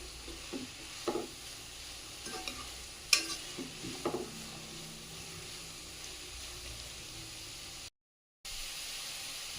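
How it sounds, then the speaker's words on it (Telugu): Onions frying in a pan for an egg onion curry: a low, continuous sizzle with occasional clatters of a stirring spoon in the first half, then a brief drop to silence before the frying resumes. "ఆనియన్ అనేది బాగా కలర్ చేంజ్ అయ్యే వరకు ఫ్రై చేసుకోవాలండి"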